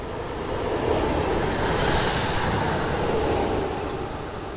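A railhead treatment train working from Hunslet Yard to York passes, a steady, loud broadband rush of rolling wheels and rail noise holding through the whole stretch without a break.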